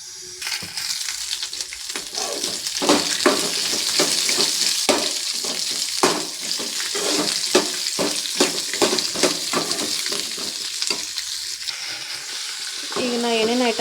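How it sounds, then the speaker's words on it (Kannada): Chopped onion and tomato frying in a pan, a continuous bright sizzle broken by frequent scraping stir strokes, close and loud, with no talk. "ಈಗ ಇವನ್ನೆಲ್ಲ ಫ್ರೈ ಮಾಡ್ಕೋಬೇಕ್ರಿ ಸ್ವಲ್ಪ ಕೆಂಪಾಗೋ ಮಟ್ಟ"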